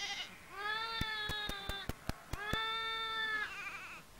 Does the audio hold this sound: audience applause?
no